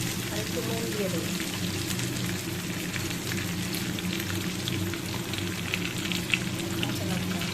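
Tomatoes, ginger and salt go into a pan of frying Bombay duck (loitta) fish curry with garlic, giving a continuous close sizzle and bubbling with faint crackles throughout and one brief louder pop near the end.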